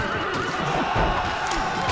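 Cavalry horses neigh and whinny amid a battle in Rome: Total War, a loud shrill whinny over dense clattering hooves and a continuous din of combat noise.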